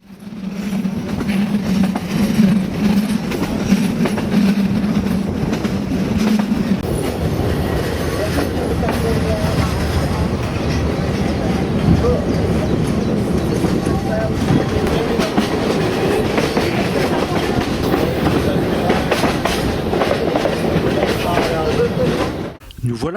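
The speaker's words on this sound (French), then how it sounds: "nous roulons sur les rails des chemins de fer tchèques" Train running along Czech railway track on dual-gauge line, steady loud rolling rumble with rhythmic clatter of wheels throughout, a low droning hum in the first seconds, and some voices under the noise.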